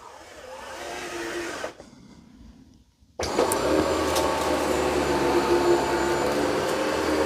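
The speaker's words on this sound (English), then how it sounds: "Okay, so I told the Dyson to start cleaning." A Dyson 360 Vis Nav robot vacuum runs with a steady whirring hum that dips and nearly cuts out, then resumes at a louder, stronger suction level and holds constant.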